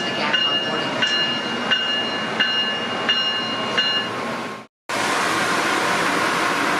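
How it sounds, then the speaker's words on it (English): An ACS-64 electric locomotive, number 615, leads a Northeast Regional train at Metro Park station, rushing by as a loud, steady roar with a rhythmic run of clicks and tonal whines, then a brief cut and more broad rushing noise. "ACS 64 number 615 leads our first catch at Metro Park, Northeast Regional 157 to Norfolk, Virginia."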